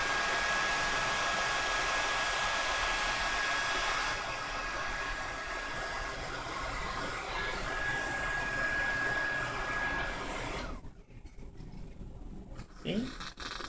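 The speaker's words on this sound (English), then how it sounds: "put the blow dryer on it." A blow dryer runs on a hair weave, a loud, steady whooshing roar that holds for about eleven seconds before cutting off, leaving quieter handling sounds.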